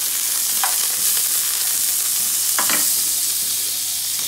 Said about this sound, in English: Right now I start the stir frying now the rice now